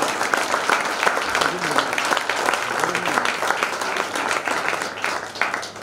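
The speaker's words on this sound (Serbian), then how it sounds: "molim jedan veliki aplauz iza njega." A crowd at the Jazztronic 2022 jazz event applauds steadily with dense clapping and cheering, and a few voices rise briefly over the applause.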